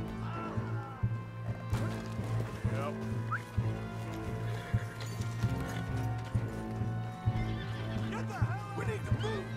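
A horse whinnies repeatedly in Red Dead Redemption 2 gameplay, with clip-clopping hooves, game music and scattered crashes layered throughout; voices talk over it.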